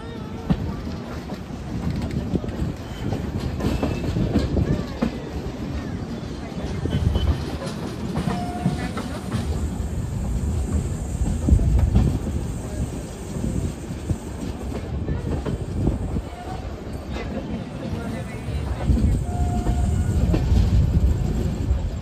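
The Harangul–Pune Express passes at speed, with a loud, close, continuous rumble and clatter of wheels on rail that holds steady for the whole stretch, with no talk.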